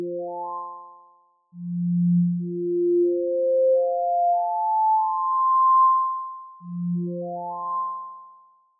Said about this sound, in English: By dragging your mouse across the strings, you can play this harmonic series like an arpeggio.